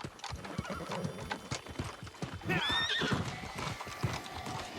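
Hooves clip-clop steadily as a horse is ridden in the fantasy game New World: Aeternum, close and moderately loud, with a clear whinny near the middle and no talk.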